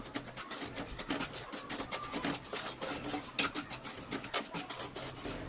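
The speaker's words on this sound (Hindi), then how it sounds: "इसे अच्छे से मिक्स करते हुए हम इसे 4 से 5 मिनट तक लो फ्लेम पे पकने देंगे।" Semolina roasting in ghee in a pan over a low flame for modaks, stirred with a steady, rhythmic scraping and rasping that runs continuously at close range, with no voices.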